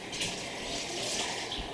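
Drinking water runs into a glass in a home kitchen, a soft, steady rushing stream lasting under two seconds, faint and without talk.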